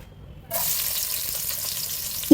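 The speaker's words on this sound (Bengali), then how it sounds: "ডালগুলো ভাজা হয়ে গেছে এখন তেল দিয়ে দিলাম রেগুলার রান্নার তেল" Regular cooking oil poured onto fried lentils in a pot, a sudden sizzle that begins about halfway in and holds as a steady hiss, ending with a louder knock.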